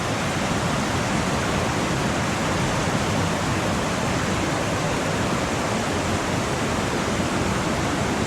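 Steady rushing flow of Pearly Creek along the Big Creek Loop Trail in Olympic National Forest, Washington, a dense, unbroken water roar that stays loud and constant with no voices over it.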